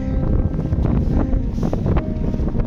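Strong storm wind buffets the microphone high on Mount Rinjani, a loud, continuous roaring rush with gusty surges and no break across the whole stretch.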